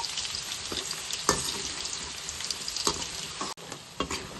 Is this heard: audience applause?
no